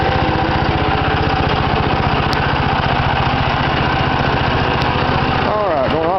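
Small engine of a home-built mini dozer idling with a tiny muffler, a loud close steady buzzing putter, with a voice talking over it near the end.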